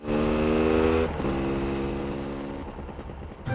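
An anime motorcycle engine hums steadily then shifts pitch as it revs, loud and close, fading slightly toward the end.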